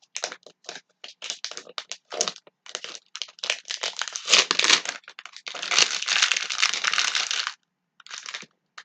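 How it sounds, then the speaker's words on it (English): A plastic wrapper is torn and crinkled off, close and fairly loud, with rapid bursts of crackling and ripping that swell into a longer sustained crinkle before a brief pause and a final rustle. "Gonna get a fucking wrapper off"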